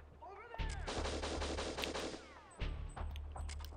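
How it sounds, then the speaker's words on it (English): Rapid machine gun fire from the Operation Winback video game rattles in two dense bursts, the first lasting about two seconds and the second shorter after a brief pause, with faint whistling tones around the shots. "See, a machine gun."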